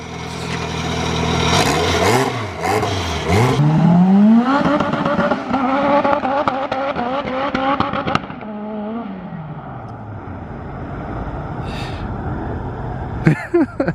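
A Ford EF sedan's engine revs hard and loud close by, pitch sweeping up and down through repeated throttle blips, with sharp crackles and a tire squeal, then settling to a rough idle before a final burst.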